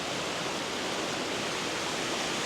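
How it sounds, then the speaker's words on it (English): Water pours over the falls of the Cascades along a stream near Lake Mohegan: a constant, dense, broadband rush that stays even and close throughout with no other sounds. "down the stream this way, over the falls, over a second set of falls, into another basin."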